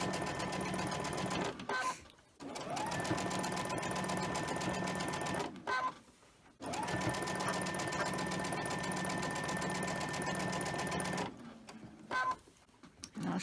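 A sewing machine stitches quilt blocks in steady, fast mechanical runs of several seconds each, broken by brief pauses, heard up close and fairly quiet with no speech.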